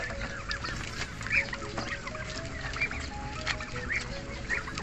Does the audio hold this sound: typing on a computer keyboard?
no